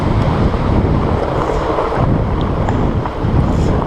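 Big ocean waves surge and wash continuously up close, mixed with heavy wind buffeting the microphone during a fat bike ride toward the Pass Lake railway bridge; steady loud rumble with no talking.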